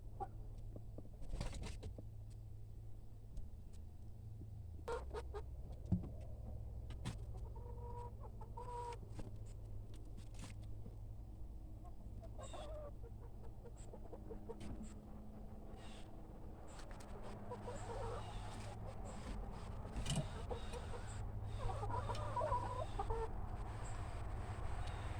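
Hens cluck steadily inside a wooden hen house, several birds overlapping in a continuous close chorus with a low hum underneath and occasional sharper calls rising toward the end.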